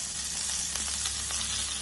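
Curry leaves sizzle in hot coconut oil in a wide pan, the start of a pearl spot fish fry; a steady, dense frying hiss with small crackles runs throughout, close and even, with no voices.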